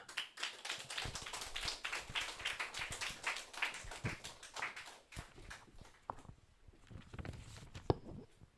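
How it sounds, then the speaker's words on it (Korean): A church congregation applauds during a service, brisk rhythmic handclapping that starts fairly quiet and thins out toward the end. "큰 박수로 하나님께 영광 올려드리겠습니다"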